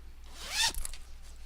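A zipper along the top closure of a fabric bag is pulled in one quick, close rising zip lasting under a second, with a faint rustle afterward in a quiet room.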